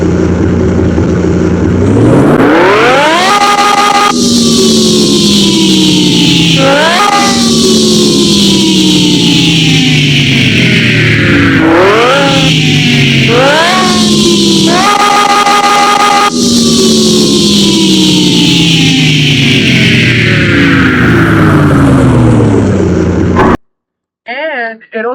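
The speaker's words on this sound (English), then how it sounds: "it also revs way slower, which is typical of a drag engine" A loud engine revs repeatedly through climbing and falling pitch sweeps, a Lamborghini Gallardo drag build roaring in Car Mechanic Simulator 2021, cutting off briefly before a short voice at the end.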